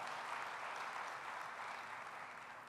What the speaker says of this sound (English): Let's give a big round of applause for the Library of Alexandria leadership,